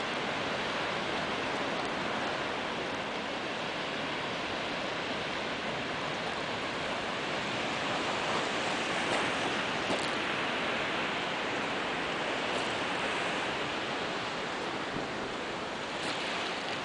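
Surf washes continuously onto the beach at Tsusiat Falls on the West Coast Trail, Vancouver Island, making a broad, even, fairly faint roar that holds steady with no talk.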